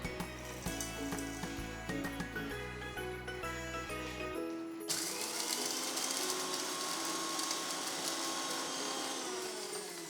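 A mixer grinder powders cooled roasted spices in a small jar; a few seconds of music give way to a loud, steady, rushing whir that runs to the end.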